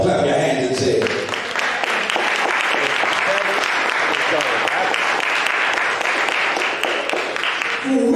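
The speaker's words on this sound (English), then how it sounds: "Come on, clap your hands and say it." Church congregation clapping hands, dense sustained applause that swells after a spoken line and carries on loudly for several seconds, with voices at the start and end.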